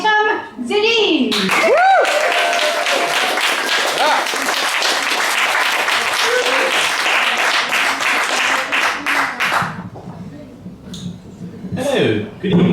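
A comedy-club audience applauds and cheers for a comedian at an open-mic night, a loud dense burst of clapping with whoops that fades out after several seconds, followed by the comedian starting to speak.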